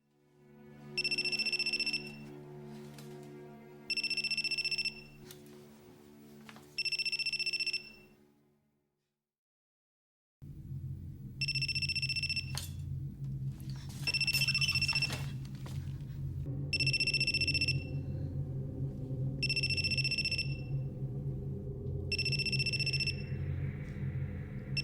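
A telephone rings in the horror film Ju-On, giving repeated electronic trill bursts in an even rhythm, then a pause and a longer run of rings over a low droning tone, loud and alone with no talking.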